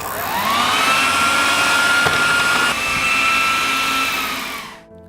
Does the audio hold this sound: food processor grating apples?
yes